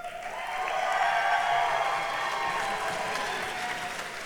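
Graduates at a spring convocation ceremony break into steady, dense applause, a crowd clapping loudly and evenly throughout with no talk over it.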